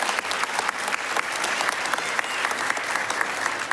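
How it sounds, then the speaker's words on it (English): An audience at a superintendent's awards ceremony applauds loudly and continuously, a dense patter of many hands clapping close by for the whole stretch. "please give a huge round of applause for Ms. Renee Rennick"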